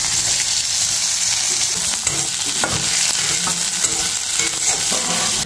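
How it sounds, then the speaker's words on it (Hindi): Onion and green chili fry in hot oil in a kadhai for poha, a loud continuous sizzle broken by frequent spatula stirring and scraping, close up with no speech. "अब दोस्तों डालते हैं प्याज और मिर्चा"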